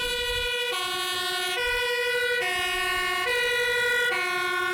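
A loud two-tone Dutch emergency vehicle siren alternates between high and low pitches in a steady hi-lo pattern, switching roughly every second, close and prominent.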